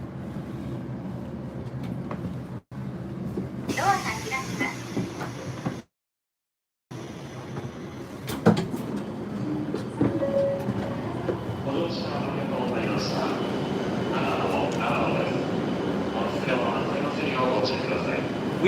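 A Shinkansen pulls away from a nearly empty platform at Nagano Station, its low rolling rumble building steadily and continuing under people talking, with a brief break in the middle.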